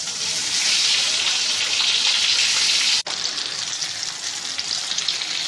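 Green chilies frying in hot oil with ginger-garlic paste give off a dense, steady hiss of sizzling that is broken once by a brief dip, then carries on loud and close.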